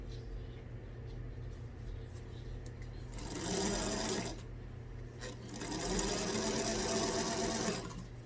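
A sewing machine stitches a small hem on a lavender off-the-shoulder dress, its motor whirring in two sustained runs separated by a short pause, close and steady over a low background hum.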